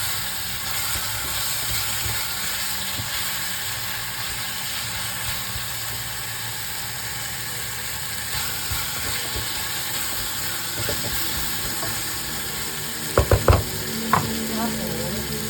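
A single piece of tilapia fries in a pan with a steady, moderately loud sizzle and hiss that continues unbroken, and a few sharp clatters come near the end.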